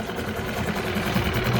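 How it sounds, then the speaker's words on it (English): A Suzuki outboard motor runs steadily in a test tank, giving a continuous close-up drone with a fast, even pulsing throb. "Now I'll run the motor in the tank again."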